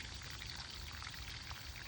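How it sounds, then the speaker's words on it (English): Water poured steadily into a square plant container, a continuous close splashing trickle with no talk over it. "I will count to like 10 or 12 and let that water go into the corners."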